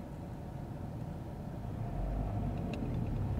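A car's engine rumbles steadily and swells slightly as the driver presses the gas and pulls away from a stop at a traffic light, a continuous low drone with no talking.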